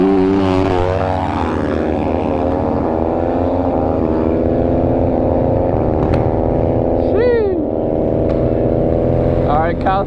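Two dirt bikes, a Kawasaki and a Husqvarna, race side by side in a loud, sustained high-revving engine drone, pitch climbing through gear shifts and swooping as they pass, with voices shouting over the noise.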